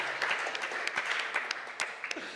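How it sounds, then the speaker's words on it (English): Applause in a church setting rises and falls across the moment, sharp individual claps scattered through a soft wash of hands, with light chatter beneath. "that's an applause"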